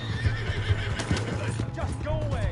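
A horse in Red Dead Redemption 2 gives a loud neigh and whinny over clip-clopping hooves, while voices shout nearby.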